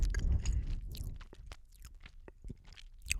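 Chocolate chips being chewed close to the microphone for ASMR, with soft wet crunches and mouth clicks in an irregular rhythm, quiet and without speech.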